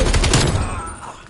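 Rapid automatic assault rifle fire in a Call of Duty game on PS5, a quick burst of sharp cracks decaying into echo, with a player talking faintly.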